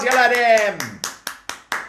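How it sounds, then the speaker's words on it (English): Children clap after a short spoken word, five sharp, evenly spaced claps following the voice, close and distinct. "Give yourselves a round of applause,"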